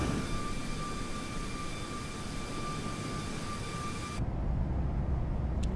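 Simulated Boeing 737 MAX 8 engine sound from Microsoft Flight Simulator 2020: a steady, loud jet roar with thin whining tones that cut away near the end, leaving a lower rumble.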